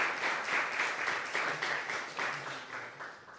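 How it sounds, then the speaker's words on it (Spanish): Applause from a small audience after an academic presentation on science and culture, a moderate patter of clapping that swells and eases in waves before thinning out, with no talking over it. "agradecemos entonces con un fuerte aplauso esta"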